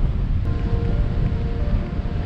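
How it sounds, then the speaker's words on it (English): Strong wind buffets the microphone outdoors by the ocean on a bike tour to Key West, a loud continuous low roar with no talking. "It is seriously windy out here."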